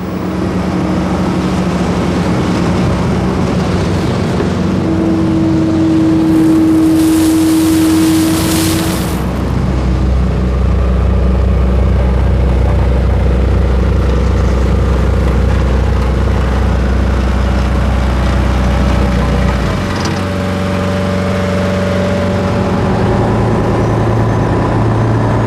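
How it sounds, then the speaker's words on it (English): A huge wheeled earth mover on rubber tyres rather than tracks, its diesel engine droning loud and steady throughout with a low rumbling drive, a brief higher whine rising in the middle, no voices. "This earth mover is known as a rubber duck because it has tyres, not tracks like most of the others."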